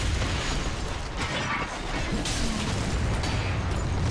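Explosions in the video game Dark Souls 3: Ashes of Ariandel produce dense, continuous rumbling booms and bursts at a loud, steady level throughout.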